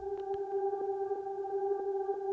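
Shortened portion of a reversed sample looped as one layer of a soundscape track: steady sustained tones with soft rhythmic pulses repeating about every third of a second, continuous and driving, no voices.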